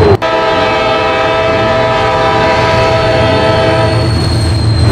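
A train sounds a loud, sustained horn while passing close by, with a steady rumble underneath.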